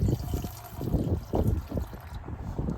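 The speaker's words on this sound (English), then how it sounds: "pour that in there real quick" Oil Eater cleaner poured into a crushed lawnmower's gas tank to loosen gas sludge, a close, uneven trickle and dribble of liquid that swells and fades in short pulses.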